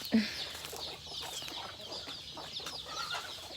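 Chickens cluck and call at a Thai rural home, with a short loud cluck near the start and softer clucking and bird calls continuing over faint background noise.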